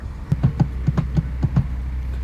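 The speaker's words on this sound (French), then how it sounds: "ce que vous avez entendu, c'est le bruit du levier de vitesse" A manual car's gear lever clacks through several quick shifts during a driving lesson, about eight close, sharp mechanical knocks over a steady low engine hum.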